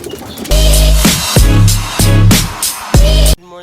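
Racing pigeons loaded at a club loft coo in repeated loud, close bursts, several throaty calls following one another with short gaps.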